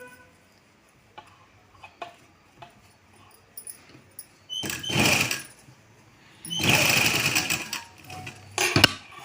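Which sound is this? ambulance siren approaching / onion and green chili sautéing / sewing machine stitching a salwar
sewing machine stitching a salwar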